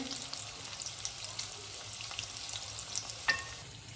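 Onion and green peas fry in a pan with a steady, close sizzling hiss throughout, punctuated by a brief utensil click near the end.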